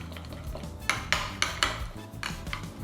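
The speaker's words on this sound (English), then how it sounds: "all we're gonna do now is we're gonna give this a good mix" A seasoning mix of salt, pepper and minced garlic being stirred in a bowl: a string of clattering scrapes and clinks from a utensil against the dish, fairly close and loud, with no speech.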